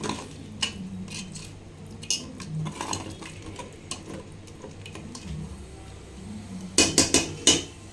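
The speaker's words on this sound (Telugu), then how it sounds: "వాటర్ వేసుకున్నాం కాబట్టి కొంచెం ఇట్లా కలుపుకుందాం" Mutton head curry being stirred with a ladle in a metal pot after water is added, light scattered scrapes and ticks, ending in a few louder clanks against the pot.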